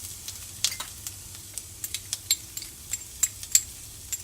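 Onions frying in a little oil in a heated pan give a soft, steady sizzle, with faint crackles and a few louder spits and stirring clicks scattered across it, and no voices.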